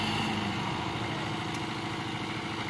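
A Massey Ferguson 385 tractor stuck in mud runs its diesel engine at a steady, loud, continuous throb, with no voices over it.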